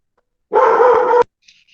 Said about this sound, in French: Il y a un chien.